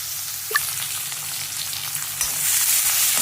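Tomato, turmeric and asafoetida sizzle in a pan, a continuous crackling hiss with a few small clinks and a brief scrape of stirring.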